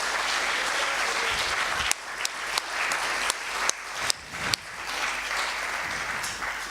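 Audience applause at the closing ceremony of a 2018 international conference, steady dense clapping from a crowd with a few louder individual claps standing out.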